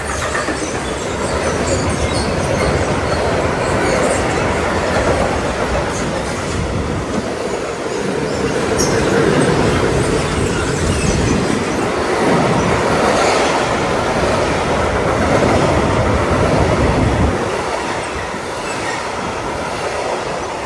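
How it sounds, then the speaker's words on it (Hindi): A freight train rolls past steadily for a long stretch, loud and close, with continuous rumbling wagons, rhythmic clickety-clack of wheels over rail joints and occasional wheel squeal, with no talking. "ये तो माल बरदार ट्रेन है भाई।"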